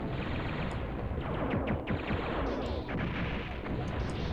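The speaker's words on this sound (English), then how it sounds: "they really nailed the explosion effect on this game" Explosions from the PS1 game Silent Bomber burst loudly one after another, with booming low rumbles and crackling debris layered into a continuous barrage.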